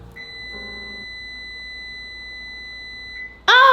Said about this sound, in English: Oh, the 40-minute timer is up now.